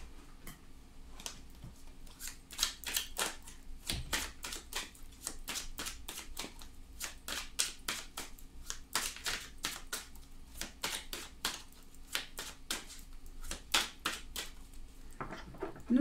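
Oracle cards being shuffled by hand, a close run of crisp, rapid riffling flicks in uneven bursts with short pauses, with no one talking.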